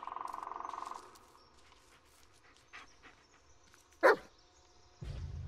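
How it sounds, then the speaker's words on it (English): The dog companion in the Blair Witch horror game pants rhythmically, then gives a single sharp bark or yip, followed by a low rumbling noise. "this is Bullet, your right hand dog. Listen to his barking and watch his body language."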